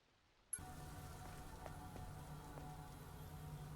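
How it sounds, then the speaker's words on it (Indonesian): Rain falls steadily, cutting in abruptly after a near-silent half second and continuing as a soft, even hiss with a few scattered drop taps, heard alone without any voices. "Nah, di sini baru kedengeran suara hujannya, teman-teman"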